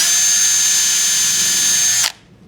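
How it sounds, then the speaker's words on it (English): A power drill bores a 1 cm deep pilot hole, a loud, close, steady high-pitched whine for about two seconds that stops abruptly. "we're going to drill a 1 centimeter deep pilot hole"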